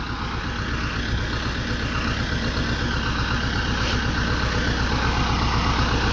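A farm tractor idles close by with a steady, rhythmic diesel chug and an even low throb that holds unchanged throughout.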